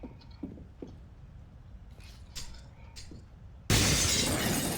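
Glass shattering in a tactical shooter video game, a sudden loud crash near the end following a few quieter thuds and faint background game noise.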